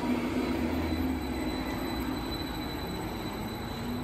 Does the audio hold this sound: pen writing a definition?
no